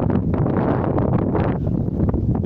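Gusty wind buffeting the microphone in a mountain village in Bulancak, Giresun, Turkey, a rough low rumble that swells and dips throughout, close and fairly loud, with no voices.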